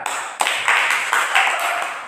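Children clap their hands in a classroom, a few short bursts of clapping in rhythmic groups, fairly near and bright.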